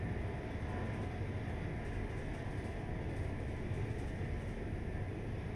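A passenger train in the railway simulator game Train Life runs at speed between London and Calais, giving a steady, loud, continuous rumble with a low rolling drone throughout.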